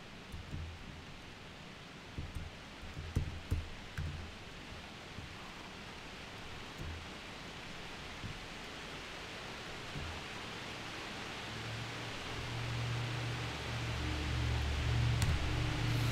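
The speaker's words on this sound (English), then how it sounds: "it's really raining now." Steady rain pours down as a dense, even hiss, with a few soft taps and rustles near the start and a low rumble building toward the end.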